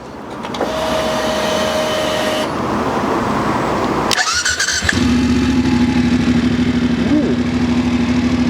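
A 2024 Voge DS900X with a 270-degree crank V-twin engine cranks over and fires up, settling into a loud, close, throaty idle after a short starter whine and a brief burst.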